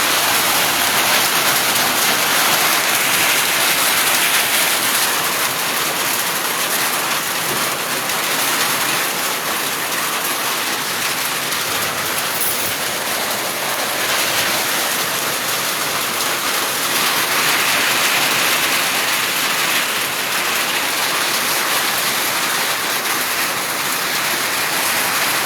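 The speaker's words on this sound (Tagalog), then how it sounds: "Malakas ang ulan ngayon." Heavy rain pours outside in a constant, loud, dense roar that holds steady from start to finish, with no voices over it.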